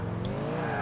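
Brief, loud engine roar of a car drifting in GTA IV, the revving tone bending upward with a faint tire squeal in less than a second.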